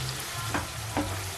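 Tomato rice being stirred in a pan with coriander leaves, a steady low sizzle broken by two or three short scraping strokes of a spoon, close and without talk.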